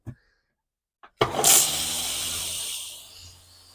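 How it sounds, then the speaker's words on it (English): A Dometic 300 series RV toilet flushes: two small clicks, then a sudden loud rush of water that holds for a couple of seconds before tapering off. "as a final precaution, flush the toilet."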